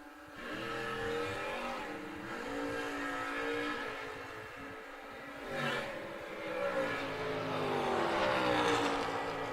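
Corvette race cars from two different generations race side by side, their engines roaring steadily and swelling as they pass, heard from a distance at an outlaw-series drag race.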